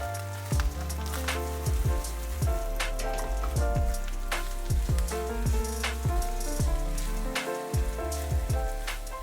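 Red and green onions with ginger sautéing in two tablespoons of avocado oil for quick noodles: loud, close crackling and popping spatters scattered over a continuous sizzle.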